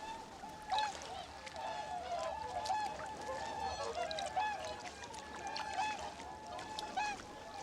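Swans call repeatedly at thermally heated lakes in Hokkaido, honking cries overlapping and rising across the flock at moderate distance over a steady outdoor wash.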